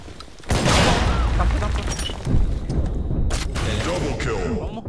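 The Thumper weapon fires and explodes in the shooter game Blackshot with a loud, dense blast, followed by sustained rumbling and clattering battle noise. A second impact lands partway through, and a voice talks over it.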